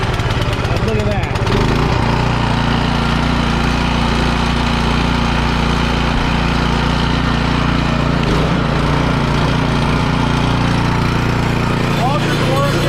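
A Cub Cadet snow blower engine running steadily after an electric start, a loud, even mechanical drone with a brief rough startup clatter at the beginning.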